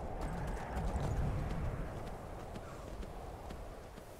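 Horse hooves clip-clop in Skyrim as a rider travels along mountain terrain, a steady rhythmic trot set within a dense, noisy game soundscape with faint ticking transients above.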